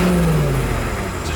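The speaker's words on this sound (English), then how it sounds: "Just revs up." Car engine revving up while the transmission sits in drive, a short loud rising whine over low rumble that then levels off.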